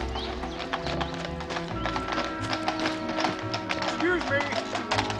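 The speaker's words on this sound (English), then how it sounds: "Stop the carriage, Watson!" Hooves of a horse-drawn carriage clip-clop steadily and close, mixed with rolling wheel noise, while voices talk loudly over them.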